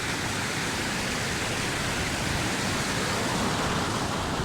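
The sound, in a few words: mountain water flowing down from above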